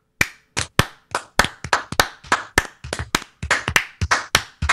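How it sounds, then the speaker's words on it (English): A small group claps together trying to keep one beat but drifts out of time, producing sharp, loud, uneven handclaps that scatter into ragged flams over several seconds. "we're all going to try to just clap the beat"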